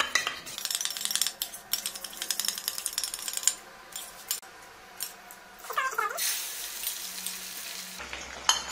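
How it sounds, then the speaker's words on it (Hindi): An egg being whisked with spices in a bowl, with a rapid, busy clatter of utensil against the bowl in uneven bursts, close and fairly loud, with a brief pause and a change in tone near the end. "देखिए हमने एक एग ले लिया है और इसको थोड़ा मसाले डाल के हम इसको मिला लेते हैं"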